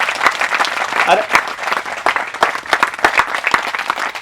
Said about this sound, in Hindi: मैंने ताली बजाने के लिए किसी ने बोला?